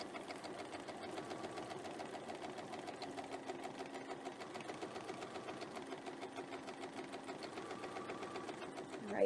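A sewing machine stitches a large diamond quilting design, running steadily and closely for the whole stretch with a dense, even rapid needle rhythm and no talk.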